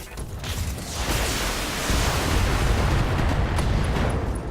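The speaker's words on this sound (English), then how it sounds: "Oh, that is an awesome explosion there." A mech blowing apart in the video game Battletech, a loud, sustained rumbling blast with dense low-end roar that builds and holds for several seconds, no talking.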